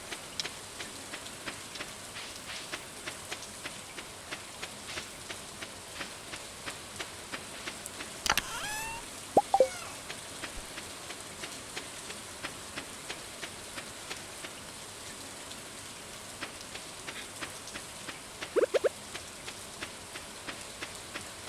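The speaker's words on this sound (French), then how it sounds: "mais ici aussi ça pleut" Rain falls in the Stardew Valley video game, a gentle, continuous patter at moderate level, broken by a few brief clicks and chimes from the game.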